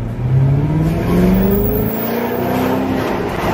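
A Cadillac's supercharged 6.2-litre V8 revs hard from inside the car, its rising engine note climbing and falling with a loud, steady roar and supercharger whine throughout.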